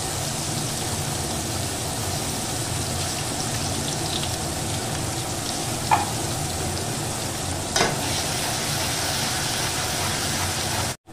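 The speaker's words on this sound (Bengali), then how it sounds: "এবার আমি এর মধ্যে দিয়ে দিচ্ছি পেঁয়াজ বাটা" Finely ground onion paste frying in hot oil, a steady dense sizzle that holds evenly for the whole stretch, with a couple of faint clinks from a utensil and no talking.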